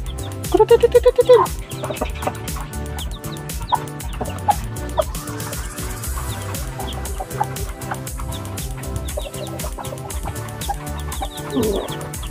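White Aseel chicks peeping in short, high chirps, a quick cluster early and another near the end, over a steady rhythmic backdrop of music.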